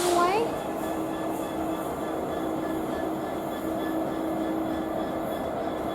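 A Class 66 locomotive hauls a London to Yiwu freight train past at Rugby on the West Coast Main Line, a steady droning rumble with a brief rising tone at the start, and someone talking over it.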